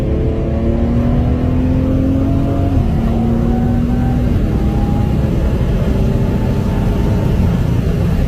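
A 2012 BMW 135i accelerates hard from inside the cabin, its engine note rising loudly and dropping abruptly at a quick gear shift before climbing again.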